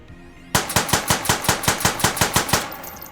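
Rapid heavy-gun fire in the H3VR virtual reality game, about a dozen loud, evenly spaced shots in a steady automatic burst after a brief quiet start, with no talking.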